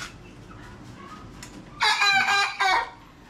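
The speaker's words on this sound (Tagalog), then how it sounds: "Ayan, tumitilaok na ating isang manok na to. 2 months old, tumitilaok na." A two-month-old young rooster crows once, a short, loud, slightly broken call near the end, preceded by quiet background sounds.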